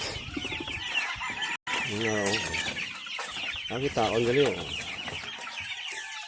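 Chickens and roosters on a game farm in Canlaon, Negros Oriental, cluck steadily and crow in drawn-out calls close by, with people talking over them.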